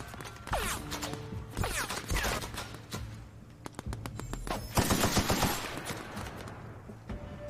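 Automatic gunfire in The Outer Worlds video game, with rapid bursts of shots in several clusters, some louder and nearer, some more distant, and mechanical clatter between volleys.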